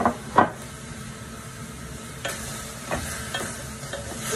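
A spoon stirring chicken sinigang with kangkong in a pot, a few scraping strokes and clinks against the metal over a soft simmering hiss, close and brief.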